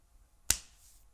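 A single crisp finger snap, part of a body percussion routine, sharp and close against near silence.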